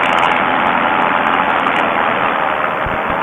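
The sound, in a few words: paramotor engine running at 6,800 RPM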